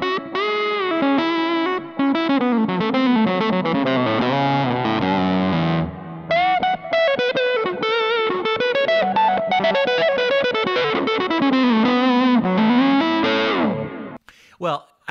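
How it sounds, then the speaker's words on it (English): An electric guitar plays a continuous, singing lead line through an amp with a fuzz pedal, thick distorted tone with sustained bending notes and brief pauses, close and loud. "it sounds like that because I turned on a fuzz, not a tube screamer"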